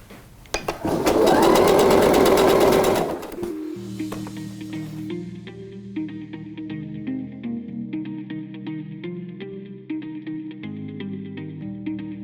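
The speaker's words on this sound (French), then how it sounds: "je vais dès à présent le piquer à la machine" A sewing machine stitching a tulle tutu runs in a loud, fast buzzing burst for about two seconds, then stops as light background music takes over.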